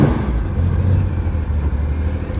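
Engine idling and revving at a Ferrari circuit event, a steady low rumble sitting close and loud throughout with slight swells, no voices over it.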